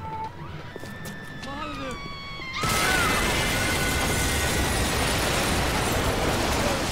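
An explosion in the video game BioShock: game sounds and whistling tones give way to a sudden loud, broad roar that sustains steadily, close and full, with no clear talk over it.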